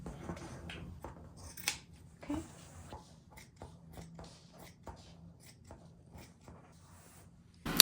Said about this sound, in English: And I'm just going to cut up the side.